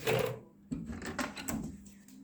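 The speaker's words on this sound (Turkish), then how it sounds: "Kapıyı açalım." A door swings open with a sharp latch click and a short rattle. The sound is close and fairly quiet, and a brief voice is heard just before it.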